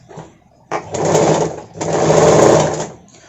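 A sewing machine stitches a katori cut blouse, running in two steady bursts with a short pause between them, close and loud.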